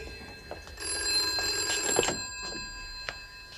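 An old telephone bell in a 1970 pub setting rings in a bright, metallic trill with two long bursts and a shorter one after, clear and fairly close, with no talk over it.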